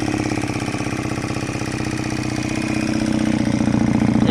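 An MR 250 Destro fuel-injected motorcycle idles steadily after starting, its close, loud engine thrumming in a rapid even pulse that grows slightly stronger toward the end, with no talking.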